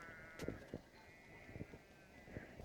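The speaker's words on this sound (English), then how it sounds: "Can you hear all the sheep and the bells?" Sheep bleat repeatedly on a hillside in the Pyrenees foothills, several short cries scattered across the moment at middling distance, with a faint ringing tone of bells behind them and no voices.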